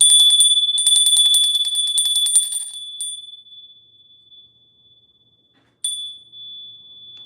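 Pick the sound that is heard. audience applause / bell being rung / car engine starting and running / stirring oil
bell being rung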